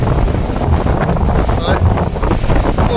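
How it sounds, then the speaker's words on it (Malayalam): Strong gusts buffet the microphone in loud, rumbling bursts on a rocky hilltop at Bodimettu, with a rushing, roaring wind sound throughout. "നല്ല കാറ്റ്. നമ്മളെ എടുത്ത് എറിയുമെന്ന് തോന്നുന്നേ."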